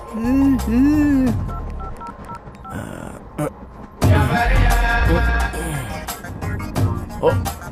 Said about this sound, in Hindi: इससे मैं अपने सेल फोन पर एक मिस कॉल करता हूँ।